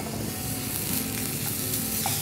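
Modak filling of coconut with charoli, cashew pieces and raisins stirred in a pan, giving a steady low sizzle with soft scraping of the spatula throughout, no voices.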